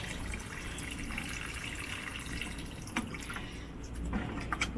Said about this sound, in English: give them some water here.